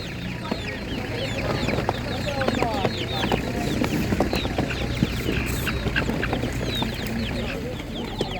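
Hens of several breeds, including Spanish and naked-neck chickens, cluck and chatter steadily at a busy outdoor animal market, with people talking in the background.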